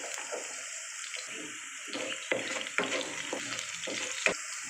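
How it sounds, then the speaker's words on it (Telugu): Green chilies fry in a pan for a cabbage curry, a steady sizzle with several sharp pops and crackles, close and alone. "పచ్చిమిర్చి కొంచెం ఫ్రై అయిన తర్వాత ఆనియన్స్ వేసుకోవాలి కొంచెం సాల్ట్ వేసుకోవాలి పచ్చిమిర్చి త్వరగా వేగుతాయి"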